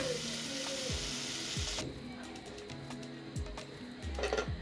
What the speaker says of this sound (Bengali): আলুগুলোকে এভাবে চিংড়ি মাছ সহ কষিয়ে নিয়ে 2-3 মিনিট